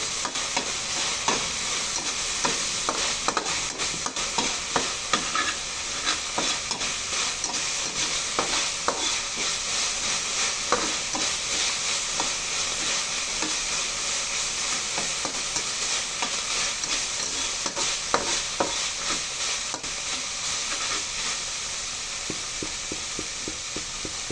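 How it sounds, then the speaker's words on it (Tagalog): Misua noodles stirred with ground pork in a frying pan, a steady low sizzle with scraping, shuffling spatula strokes throughout, close and even with no talking. "Pwede po natin ihalo-halo para po hindi masulog."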